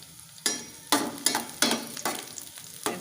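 Garlic fries on a slow flame for dal chana, with several stirs that each set off a sharp sizzling burst before it fades back to a soft frying hiss, close and steady.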